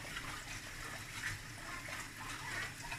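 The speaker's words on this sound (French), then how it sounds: "On jette l'eau. Et puis on remet encore de l'eau." Water sloshes and pours continuously as millet is rinsed, the water drained off and fresh water added, a steady splashing wash with no voices.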